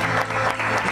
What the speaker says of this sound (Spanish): Fuerte el aplauso para el sedimentario.